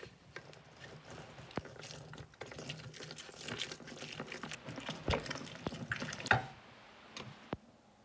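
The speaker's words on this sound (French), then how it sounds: "On prend le jus d'orange, on va le presser." Oranges are squeezed by hand for juice: quiet wet squelches, drips and small trickles of liquid with occasional sharp clicks and taps, close and faint, with no talk.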